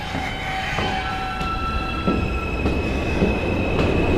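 A New York subway train rumbles steadily on its rails, with thin metallic wheel squeals, a sustained tonal whine and occasional clicks and clunks, loud and close throughout.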